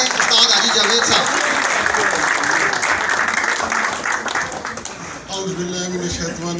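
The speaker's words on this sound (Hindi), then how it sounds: "आपकी भरपूर तालियों में उस्ताद हाजी जावेद साहब" Sustained, dense audience applause welcomes a speaker to the stage at a Rasme Ustad-e-Shagirdi ceremony, loud and steady throughout with a slight dip near the end.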